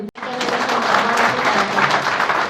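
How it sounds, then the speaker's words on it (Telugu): Applause at a Congress party meeting, a dense, steady clapping from a large crowd that starts right after a brief break and continues loud and close throughout. "no claps please no claps please"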